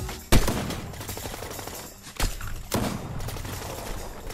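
Pump shotgun blasts in Fortnite, a few loud sharp reports spaced apart with softer in-game thuds and movement between them, close and punchy.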